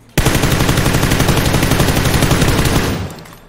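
Automatic gunfire bursts out in the PUBG battle royale video game: a loud, rapid, sustained stream of shots lasting about three seconds, then fading quickly.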